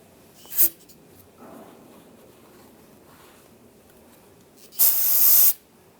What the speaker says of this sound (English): You can spray some on the rag and then just wipe down the surface area on the differential.